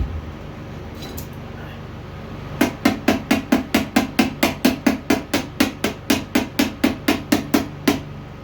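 Steady hammering on a Troy-Bilt lawn mower: about twenty sharp metallic blows in an even, fast rhythm, close and loud, after a quiet stretch of low background noise.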